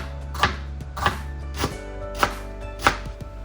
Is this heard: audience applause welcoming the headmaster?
no